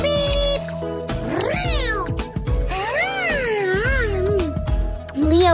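Several drawn-out cartoon cat meows with rising and falling pitch, close and fairly loud, over background music.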